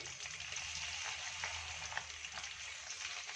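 Raw banana slices frying in oil over a low flame for crispy banana chips, a soft, even bubbling sizzle that stays faint and steady throughout, with no voices.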